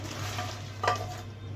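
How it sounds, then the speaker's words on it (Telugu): Curry leaves frying in oil give a steady crackling sizzle, with one brief louder spit and scrape as they are stirred in the pan. "ఇప్పుడు కరివేపాకు కరివేపాకు కూడా బాగా వేగాలి"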